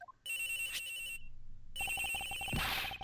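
A cell phone rings in the Ace Attorney Investigations video game, a bright electronic ringtone melody in repeated bursts with a short gap between them, loud and close with no talk over it.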